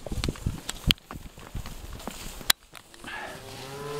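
Cattle on a dusty ranch cattle drive at Dryhead Ranch, Montana, moo repeatedly, with low drawn-out calls building near the end over scattered clops and footsteps of moving livestock.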